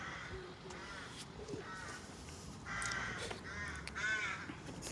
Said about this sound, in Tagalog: Ang ingay pati ng mga ibon na yan